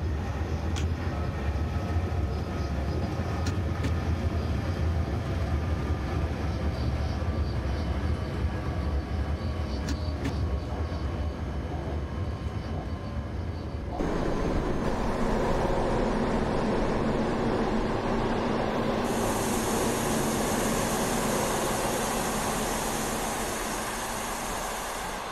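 An EU47 electric locomotive pulling eight modernized wagons in the MaSzyna train simulator gives a continuous heavy rolling rumble with a steady mechanical hum; partway through, the tone shifts and a brighter whine joins. No talking.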